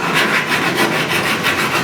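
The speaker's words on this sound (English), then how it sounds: "I just like doing it with a file" A hand file is drawn back and forth along the edge of a classic 1969 Chevrolet C10 truck door panel, making steady close rasping strokes in an even rhythm with no talk.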